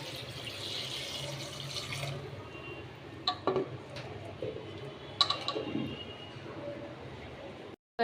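Water is poured into a cooking pot of rice mixed with cloves and spices in a home kitchen, a steady splashing over a low background with a few sharp clinks of utensils.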